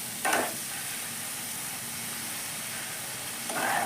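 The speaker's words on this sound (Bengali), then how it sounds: "আমি জলটা এখন এটার মধ্যে ঢেলে দিচ্ছি" Hot water is poured into a pan of sizzling dhokar dalna, a Bengali lentil-cake curry, producing a sudden loud hiss that settles into a steady bubbling sizzle, then flares again near the end.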